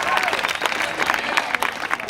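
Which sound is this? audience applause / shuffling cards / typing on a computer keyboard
audience applause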